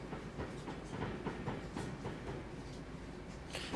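A Class 350 electric multiple unit rolls slowly across points on the West Coast Main Line in the Trent Valley, its wheels giving a steady clickety-clack of rail joints under a faint cab hum.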